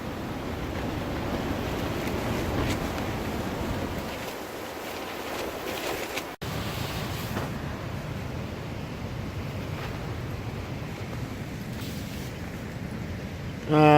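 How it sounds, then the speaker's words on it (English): Dangerously strong wind roars through a campsite at Hanging Rock in the Blue Mountains, a loud, steady buffeting rush with gusty microphone rumble that barely lets up. "The wind is just intense."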